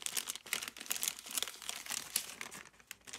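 A small plastic packet of embroidery beads crinkles and rustles close up, a continuous crackly handling sound with rapid irregular bursts, no speech.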